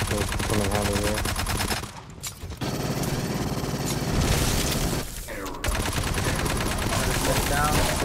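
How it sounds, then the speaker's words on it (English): Turret gunfire in the sci-fi shooter Aliens: Fireteam Elite, a continuous mechanical rattle of rapid automatic fire mixed with game music and effects, briefly broken by two short pauses. "They have a turret."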